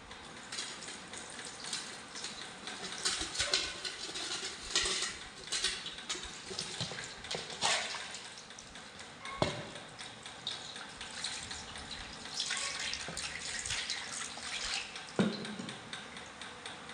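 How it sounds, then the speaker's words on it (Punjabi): Water splashed and poured over a wooden stool blackened with moss, with steady trickling and splashing plus occasional scrubbing knocks, close by with no talk. "ਹੁਣ ਇਹਨੂੰ ਆਪਾਂ ਥੋੜਾ ਥੋੜਾ ਪਾਣੀ ਪਾ ਕੇ ਧੋ ਲੈਣੇ ਆ"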